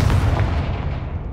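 A fiery Confringo spell blast in the video game Hogwarts Legacy bursts as a loud, deep boom that rumbles on briefly with no talking.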